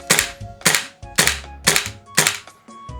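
A Tokyo Marui AKX airsoft rifle running full auto on duster gas, dry-firing with no BBs loaded, gives five sharp, evenly spaced bursts of clattering mechanical snaps, close and loud with nothing else around them.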